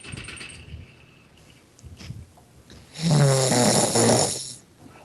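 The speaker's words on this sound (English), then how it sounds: "That's animal snoring." Loud snoring comes through a Skype call: faint, noisy breathing at first, then one long, rough, rattling snore that swells to a loud, harsh peak before fading, with no talk over it.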